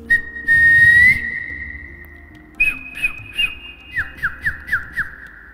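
A person whistles an imitation of a koel's call, a long sustained tone that steps higher, then a run of about six short rising whistled notes in steady rhythm, clear and close with no talk.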